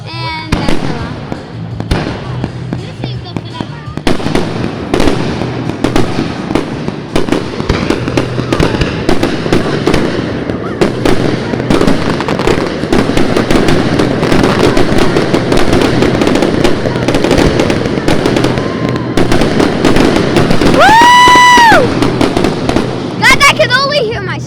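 Fireworks burst over a show at Egg Harbor City, a dense string of crackling pops and booms at close range. Excited voices shout and cheer throughout, and a short whistling rocket rises near the end.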